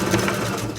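A sewing machine runs in a steady, close, loud whir while stitching a reversible tote bag, a brief continuous burst of motor and needle noise with no voices.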